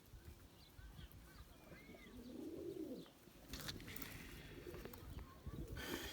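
Pigeons kept as breeding birds, young squabs among them, give a low rolling coo in the middle of the stretch, set against a muffled room and soft bird chirps, with brief rustling and flapping near the end.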